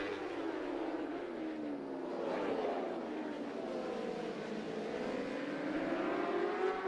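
Honda and BMW superbike motorcycles race at Laguna Seca, engine whine sweeping up and down as bikes pass, a steady moderately loud roar with shifting pitch and no talk over it.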